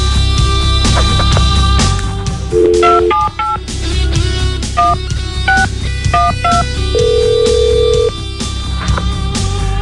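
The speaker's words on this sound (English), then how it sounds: "What happened when you dialed, Emily?" A telephone number is punched in on a keypad, a series of short dual tones in irregular rhythm, then one longer held tone, loud and close over a constant hum.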